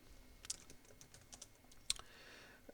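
A computer keyboard being typed on to enter a name, with soft scattered keystrokes and a couple of sharper clicks, faint and close against low room noise.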